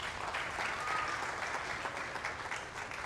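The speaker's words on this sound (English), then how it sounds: "Round of applause." An audience at a live event claps steadily, a broad, continuous wash of applause at moderate volume, with no voices over it.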